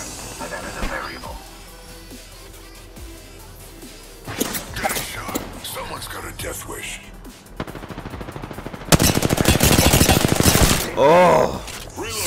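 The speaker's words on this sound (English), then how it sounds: "Getting shot. Someone's got a death wish. Taking fire." Bursts of gunfire in the battle royale game Apex Legends, with sporadic shots early on and then dense, loud volleys in the second half, mixed with impacts and hissing game effects.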